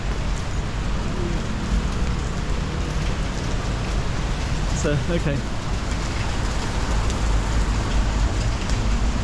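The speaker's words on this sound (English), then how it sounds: "So we're just gonna get out of the rain here." Heavy rain falls on a steep street in Macau, a dense, loud, continuous hiss filling the scene, with someone speaking briefly over it.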